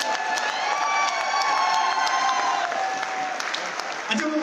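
A crowd at a celebration event breaks into sustained, dense clapping that fills the whole stretch, with faint cheering and a voice talking underneath near the end.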